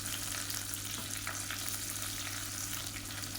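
Chopped onions frying in hot oil with fennel, curry leaves and mint for a tomato kuzhambu, a steady close sizzle throughout with light stirring and no talk.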